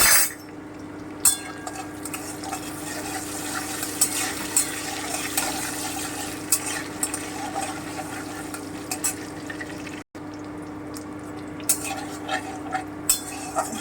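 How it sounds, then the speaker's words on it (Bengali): Bay leaf, dried chilli and garam masala frying lightly in hot oil in a pan, a continuous close sizzle broken by scattered clinks of a spoon against the pan; no talk. "তেজপাতা শুকনো লঙ্কা গরম মশলাটা দিয়ে দিলাম হালকা একটু ভেজে দিচ্ছি"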